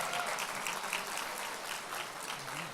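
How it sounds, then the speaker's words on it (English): Steady applause from an audience at a rights and values campaign event, even and continuous throughout, moderately distant and without speech. "Let's give them all a round of applause."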